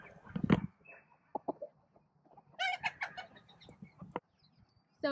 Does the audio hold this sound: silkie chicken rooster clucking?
yes